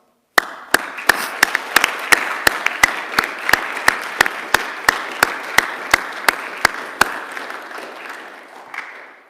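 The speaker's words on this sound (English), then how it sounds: "Let's give a round of applause." An audience at a Boy Scouts of America Eagle Scout court of honor applauds the newest Eagle Scout. A few nearby loud, sharp claps ring out in a steady rhythm over softer crowd clapping, then fade out.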